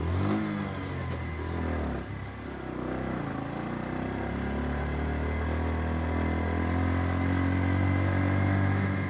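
A motorcycle, a Splendor, labours up a steep mountain road between Gangotri and Uttarkashi, its engine revving hard and continuously up close, with the pitch rising and falling as the rider works the throttle.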